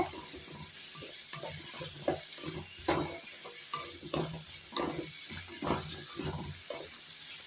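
Radish sautés in a pan with a quiet, hissing sizzle under a steady background hiss, punctuated by soft, irregular stirring scrapes close by.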